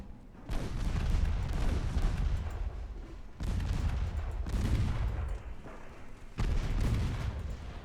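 Naval gunfire in Ultimate Admiral Dreadnoughts: three heavy, rumbling salvos roll in one after another at regular intervals, each a broad low boom that lingers and fades before the next, with no voices.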